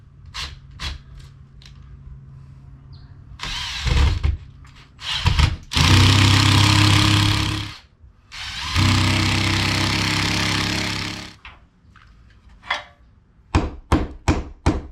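A power drill boring a hole while repairing a sagging joist, heard as two long loud bursts of drilling separated by a pause, with sharp knocks and clatter before and after.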